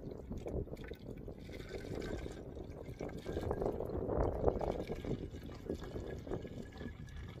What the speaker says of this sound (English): Then I just fill the rest of the bottle up with distilled water.